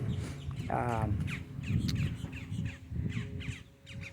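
Harsh bird squawks and caws ring out outdoors, repeated calls at moderate distance over a low background murmur.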